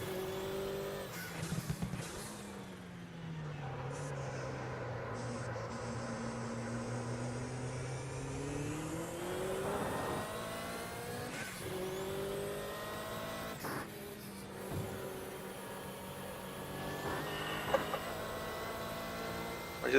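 A race car at the ADAC-Bilstein Super-Sprint round, heard from the cockpit, revs up and down as it accelerates, brakes and shifts through gears. The engine is loud and close throughout, with no voices.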